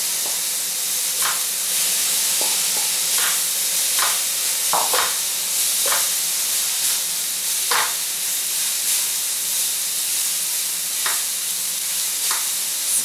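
Potatoes frying in a pan with onion, ginger and garlic for aloo methi, a loud continuous sizzle with occasional scraping stirs and clicks of a utensil, close up.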